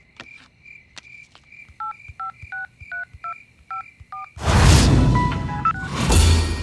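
Phone dialing tones: a row of short, evenly spaced keypad beeps over a steady tone, then a sudden swell of loud broadband noise with faint tones beneath it, no talk.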